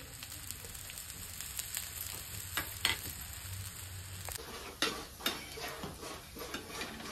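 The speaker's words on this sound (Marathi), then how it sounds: "तर ह्या दोन्ही साईडनं पण छान आपल्याला असं तेलावर फ्राय करून घ्यायचं आहे" Vada for a fasting recipe shallow-frying in oil in a pan and cooked on both sides, giving a steady close sizzle with occasional clinks and scrapes of a utensil, with no talking.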